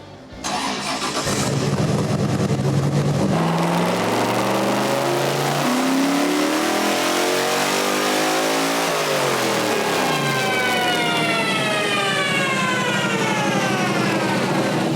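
A 590hp LS V8 in a bodiless track car starts up and revs hard, the roar climbing and falling through sweeping pitch changes before rising again in a sustained loud high-rpm scream.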